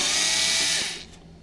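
A power drill backs a screw out of a Lexmark T640-series laser printer, giving a loud, close, high-pitched whir for about a second before winding down to quiet.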